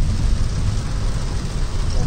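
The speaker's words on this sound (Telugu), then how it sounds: "చూస్తున్నారు కదా ఎంత పెద్ద వర్షం." Heavy rain drums steadily on a car during a drive from Hyderabad to Bhadrachalam, a dense, continuous wash with low road rumble underneath, loud and close with no pauses.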